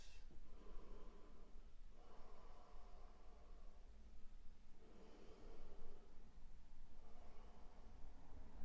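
Slow, deep breaths during a gentle yoga twist, several long airy inhales and exhales close to the microphone over a steady hiss.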